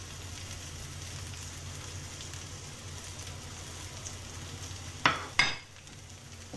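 Onion, ginger and chili sauté in a pan with a steady, fairly quiet sizzle, broken near the end by two sharp, loud stirring scrapes a moment apart.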